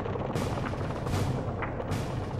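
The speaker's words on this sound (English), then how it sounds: "In no man's land, George met with devastating fire from the German trenches." Sustained gunfire and distant artillery from German trenches across no man's land in a First World War battle, a dense continuous rumble with repeated sharp bursts, loud and unbroken with no voices.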